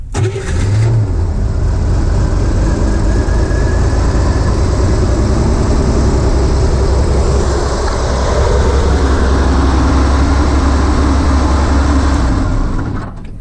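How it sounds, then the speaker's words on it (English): A Corvair engine in its engine compartment is started remotely, cranking and catching into a loud, steady running roar that holds for several seconds before the engine is killed and falls away. "So there was a start and a kill."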